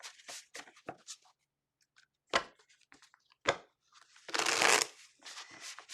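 Tarot cards being shuffled by hand at close range, a series of quick papery riffles and flutters broken by short pauses, with one longer, denser burst of shuffling near the end; quiet and alone, with no talk.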